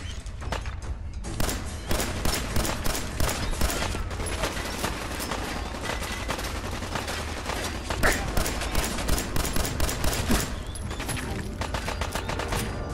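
Sustained gunfire in the video game Fallout 4, rapid bursts and repeated shots crackling almost continuously for the whole stretch over dense game noise, with no talk.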